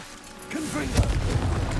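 A Confringo spell blast goes off in Hogwarts Legacy as a booming, crashing burst that swells and lingers, with a voice calling out a spell over it.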